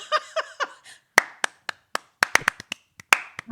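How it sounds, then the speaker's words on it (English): A small group claps in uneven, separate hand claps, with a few near-simultaneous bursts and some single sharp claps spaced apart in a quiet room. "Yes, let's all clap"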